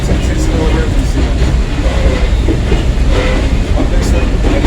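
Heritage passenger train with 1925 Southern Railway open-seated coaches rolls past on a railway line, a steady loud rumble of wheels on rail with faint clickety-clack and light rattling, continuous throughout.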